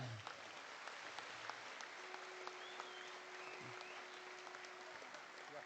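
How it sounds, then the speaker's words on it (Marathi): Sustained applause from a large crowd at a Shiv Sena anniversary political rally, a steady wash of clapping that runs the whole time with no speech over it. "या सर्वांसाठी एकदा जोरदार टाळ्या"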